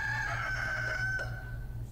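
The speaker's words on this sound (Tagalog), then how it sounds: "Mitutugawag na manok." A rooster crows nearby, a drawn-out cock-a-doodle-doo over a low background hum.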